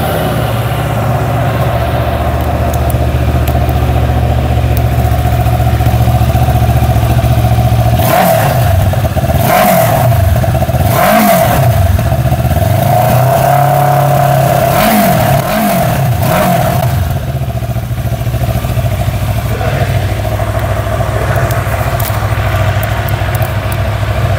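A QJ SRT 700 motorcycle engine idles steadily, then is revved in several sharp blips around the middle, rising and falling in quick bursts before settling back to a low idle, close and loud.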